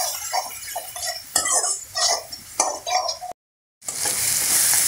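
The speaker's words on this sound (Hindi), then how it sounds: "अब गैस के फ्लेम को लो कर लेंगे और मसालों को अच्छे से हम भून लेंगे।" Spice paste fries in oil on a low gas flame for a paneer curry, with bursts of sizzling and spatula scrapes against the pan. After a brief silent gap, a louder, steady sizzle takes over.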